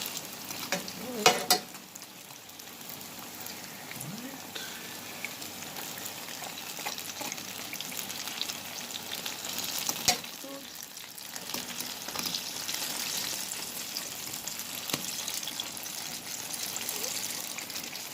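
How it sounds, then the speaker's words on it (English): Jamaican salt fish fritters fry steadily in a pan, a continuous close crackling sizzle with a few sharper pops, no talking over it. "Allow the next side to fry"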